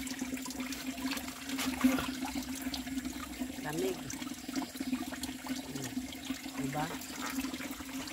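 Clear, cold stream water in a natural brook flows steadily with a soft, continuous rushing wash, while people talk nearby.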